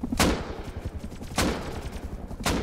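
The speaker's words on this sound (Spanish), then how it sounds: "Le voy a disparar." Gunfire in the survival video game Rust: three loud, sharp shots spaced about a second apart, each with a long bright crack over a steady low rumble of game ambience.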